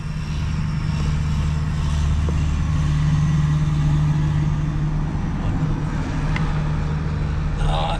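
A 9520 tillage tractor, bareback with no PTO or three-point hitch, idles while lined up for fuel, a steady low engine drone that runs continuously at moderate distance over outdoor noise.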